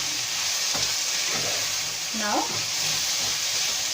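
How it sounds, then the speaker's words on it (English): Capsicum frying with tomatoes in a pan, a steady close sizzle running throughout with occasional stirring scrapes, while a voice speaks briefly over it. "This capsicum will cook with these tomatoes."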